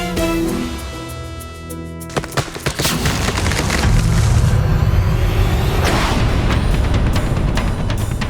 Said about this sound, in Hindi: अरे, ये प्रतिमा का भाग अकस्मात कैसे गिर गया?